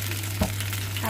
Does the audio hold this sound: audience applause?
no